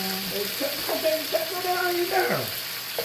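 Potato slices sizzle and fry in a hot pan, a steady crackling hiss with scattered pops and faint stirring, close and moderately loud, with bits of voice in the background.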